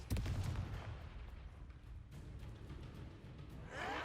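A Confringo fire spell blast in Hogwarts Legacy opens with a loud, booming burst, then settles into a rumbling, crackling tail that fades steadily. A second whooshing swell rises near the end.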